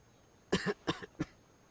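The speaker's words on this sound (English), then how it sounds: "He's got a bit of a cough." A game character in Genshin Impact coughs in a short burst of three dry, close coughs, the last one lighter, heard alone against a quiet background.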